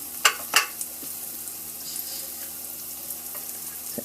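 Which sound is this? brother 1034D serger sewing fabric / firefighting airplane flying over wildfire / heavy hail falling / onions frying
onions frying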